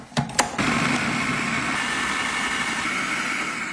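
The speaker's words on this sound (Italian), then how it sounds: "Adesso chiudiamo il frullatore e frulliamo tutto." Kitchen blender whirs steadily while blending a basil sauce with a handful of spinach, starting after a couple of clicks and holding a loud, constant motor hum close by, with no talking.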